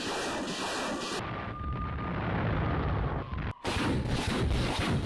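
Missile explosions strike Kyiv, Ukraine, heard as dense, rumbling blasts and roaring noise that cut in and out abruptly.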